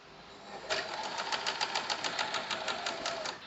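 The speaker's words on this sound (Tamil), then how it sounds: "நான் வந்து உங்களுக்கு நார்மலாக ஒரு செயின் ஸ்டிச் போட்டு காமிக்கிறேன்" A sewing machine running a chain stitch on cloth, starting after a brief quiet hum and then a fast, regular train of mechanical needle clicks, close and steady until the end.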